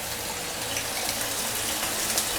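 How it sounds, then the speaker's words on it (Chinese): Water pours into a cooking pot during home-style stir cooking, a steady, close gushing splash that holds at an even level for the whole stretch. "加点清水。"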